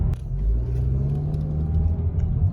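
A 2023 Mazda 3 hatchback engine revs hard with the throttle floored in second gear, a loud, steady low rumble that climbs gradually in pitch as the car accelerates, heard close from inside the cabin.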